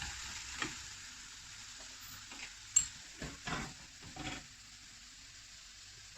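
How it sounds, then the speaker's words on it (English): Diced mango for pickle cooks in hot oil in a pan taken off the flame, a faint, quiet sizzle broken by a few soft stirring scrapes and taps. "I'm going to remove this from the flame and let it cook in that hot oil."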